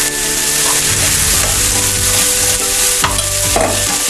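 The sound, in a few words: stir-frying bacon, ham, shallots and filling for turnip cake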